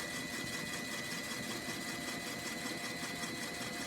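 A small FTC robot motor runs steadily, a continuous mid-pitched whirring hum, faint and even throughout with no voices.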